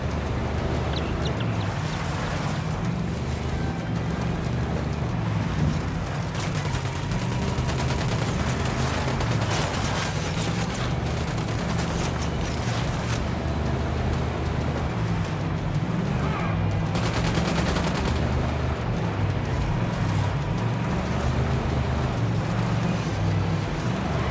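Sustained gunfire and combat noise from the tactical shooter Ghost Recon Wildlands, a dense, loud run of shots with bursts clustering around the middle, over a constant low rumble of engines or vehicles, with no talk.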